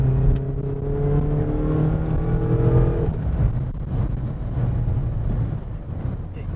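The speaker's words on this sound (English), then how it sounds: "especially when you get this thing revved out." A Mazda Miata's four-cylinder engine revs hard with a strong, growling tone. The revs fall away after a few seconds and settle into a lower idle-like rumble. It sounds close, and no one speaks.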